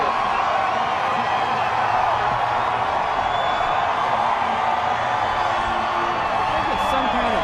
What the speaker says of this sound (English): The crowd's pretty fired up about it.